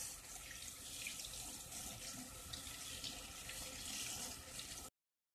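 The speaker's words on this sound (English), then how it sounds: "I guess I'm just gonna wash some of the leaves, make sure there's nothing on them." Tap water runs steadily into a sink while leaves are rinsed under it. The hiss is constant and close for about five seconds, then cuts off abruptly.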